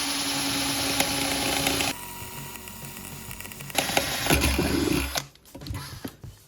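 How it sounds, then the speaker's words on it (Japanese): Cordless drill driver in drill mode bores through a steel plate, a steady high motor whine with grinding bite, a brief drop in pitch midway, then the motor winds down and stops near the end. "あとは一応ドリルドライバーなんで穴開け等もできると思うんでやってみましょうか。"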